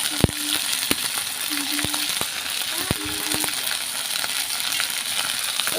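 Spice paste frying in a pan for a rohu fish curry with potato and pointed gourd, a steady sizzling hiss with several sharp clinks of a utensil against the pan.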